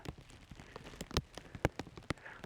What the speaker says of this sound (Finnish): Ei pitänyt siis sataa alun perin oikeastaan yhtään mitään.